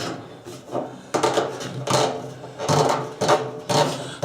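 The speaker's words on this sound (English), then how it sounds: "to put the regulator on, you got to pop this little rubber cover off" Rubber cover being pried and worked off the regulator connection of a Mr Heater unit: repeated loud scraping, rubbing bursts in an uneven rhythm, close up, with no talking.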